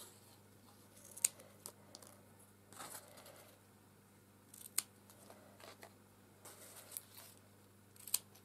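Scissors snipping playing cards at close range, quiet scattered cuts with a few sharper snips spaced out over a low steady hum.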